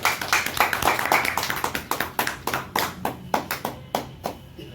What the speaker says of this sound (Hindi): उमेश बाबू के लिए कृपया जोरदार ताली।